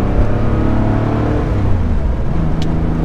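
The engine of a Porsche 911 3.2 Carrera runs with a steady, loud, low mechanical drone and a throbbing rumble, heard close up with no talk over it.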